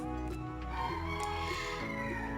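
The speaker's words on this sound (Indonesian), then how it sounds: "Tengah malam ada suara ayam ya, kalian denger nggak?" A rooster crows loudly and close by in the middle of the night. The long, harmonic cock-a-doodle-doo lasts through the whole stretch, with a few clucking breaks and no talking.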